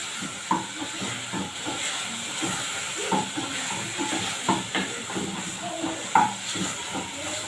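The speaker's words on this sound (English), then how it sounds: "I'm just steaming them a little bit." Tomatoes steam in a pan for pizza sauce, a steady sizzling hiss with scattered soft clinks of a utensil against the pan.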